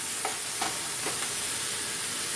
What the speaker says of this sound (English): You're going to put in a bag of frozen lima beans. That's 12 ounces. Stir all of that in.